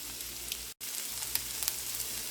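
Grated potatoes fry in bacon grease in a pan, a steady, close sizzle with soft crackles and a brief dropout, no talk.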